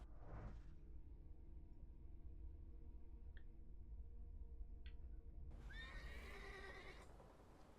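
Horse neighing in the game The Thaumaturge, with a brief whinny at the start, two faint clicks in the middle, then a longer, louder, shaky neigh near the end over a low rumbling background.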